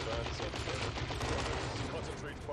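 An assault cannon in the video game Dawn of War 2 fires on a Death Dread in rapid, continuous mechanical bursts amid a busy battle din, steady and fairly quiet throughout.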